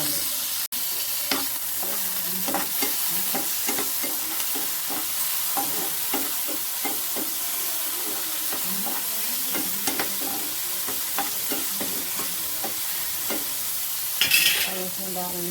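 Tomatoes and capsicum fry with cumin in a pan, a steady sizzle broken by repeated scraping stirs at a loose, regular pace, with a brief sharper clatter near the end.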